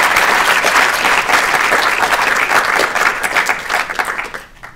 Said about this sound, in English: let's give Thomas a round of applause